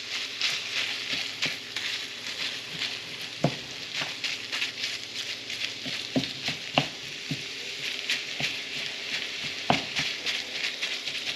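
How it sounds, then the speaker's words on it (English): Ground meat browns in a hot pan with a steady, close sizzle and crackle, punctuated by occasional spatula scrapes and stirring knocks. "we're going to brown this up"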